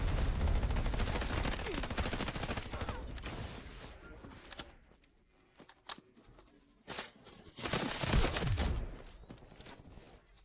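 Rapid bursts of automatic rifle fire from an M4A1 in the shooter game Delta Force, several clustered volleys with short gaps between them, mixed with game mechanism clatter.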